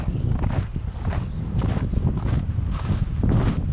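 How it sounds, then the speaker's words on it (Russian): Strong wind buffets the microphone outdoors on a fishing trip, in loud, continuous low rumbling gusts, with no voices. "Пока тишина, ветер, сильный ветер, прохлада."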